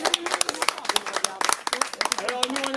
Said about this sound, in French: les premières fois, ça s'est applaudi